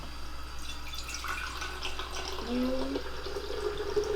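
Bissap, a hibiscus drink, trickles and splashes as it is poured into a container in a kitchen, a brief liquid stream that swells midway, alongside background room noise.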